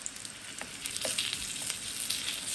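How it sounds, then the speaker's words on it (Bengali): Frozen chicken nuggets, first warmed in an oven, fry in oil in a pan on a stove, giving a continuous close hiss and sizzle with a few light pops and stirring scrapes. "আমরা ফ্রোজেন নাগেটগুলো ওভেনে একটু গরম করে নিয়ে তারপরে তেল দিয়ে ভাজি।"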